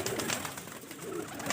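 Several pigeons in a fancier's loft coo in a low, continuous murmur, close and fairly quiet, over a short stretch with no voices.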